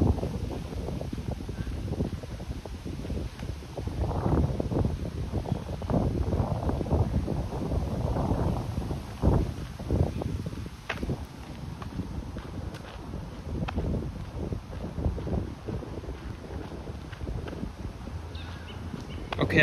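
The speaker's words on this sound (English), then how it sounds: "windy right now." Wind blowing along the Beltline Trail, a steady moderate rush with buffeting gusts against the microphone and scattered faint footstep-like knocks, no speech.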